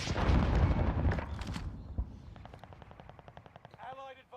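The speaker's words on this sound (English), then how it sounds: "That's that burst fire on that SMG." SMG burst fire in the video game Call of Duty: Warzone, a loud burst of rapid shots at the start, then a quicker string of lighter, evenly spaced pops fading out, with some talk mixed in.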